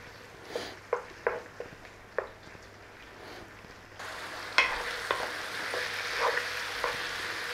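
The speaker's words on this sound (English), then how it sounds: "Turn up the flame and start cooking your liver." Chicken liver goes into a hot pan over a high flame, first with several distinct taps and clatters, then with a loud, steady, close sizzle of frying.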